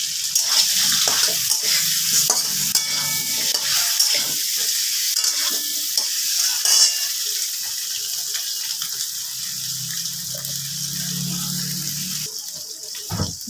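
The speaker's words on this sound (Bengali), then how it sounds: "ডিমগুলো নুন আর হলুদ দিয়ে ভেজে তুলে নিচ্ছি।" Eggs frying in oil with salt and turmeric for egg posto, a steady close sizzle and crackle with occasional utensil scrapes, easing to a softer hiss near the end.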